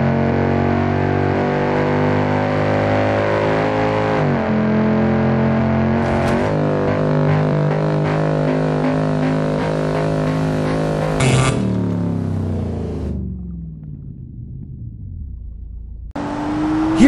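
Audi Q8 RS in the driving game BeamNG Drive: a loud, steady engine drone with rising and falling pitch as it accelerates and shifts, ending in a sudden drop-off near the close.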